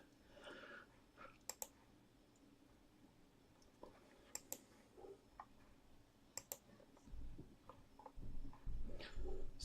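Sparse, quiet computer mouse clicks on an online randomizer, single sharp taps spaced irregularly over a faint background, with some low handling noise toward the end.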